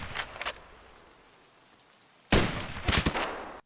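Gunfire exchange in the Escape from Tarkov video game, a PvP fight on a hillside against a PMC: a couple of sharp shots first, then after a lull a louder burst of several rapid, close shots.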